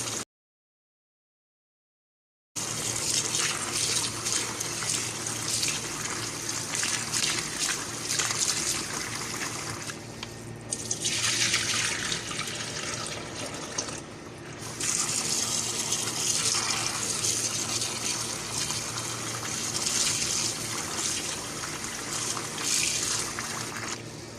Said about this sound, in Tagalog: Hugasan natin ng malamig na tubig.